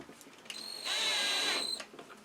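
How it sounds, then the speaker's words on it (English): A cordless power drill drives screws into a Poulan Pro BVM200 blower. It whines steadily for about a second, ramping up and winding down, and is fairly quiet against a faint background. "just going to start it with these, with the drill."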